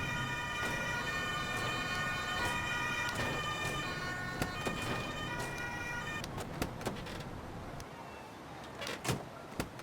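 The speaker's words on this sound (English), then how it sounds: "And that sounds like our emergency vehicles are just arriving here on scene." Emergency vehicle sirens from the Emergency 5 video game in a Hamburg freeplay scene, steady tonal wailing that runs through the first part and then gives way to scattered clicks and door-like knocks.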